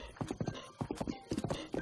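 In the Ocarina of Time ranch, a horse's hooves clip-clop at a quick gallop, thudding in crisp, repeated triple beats, close and alone.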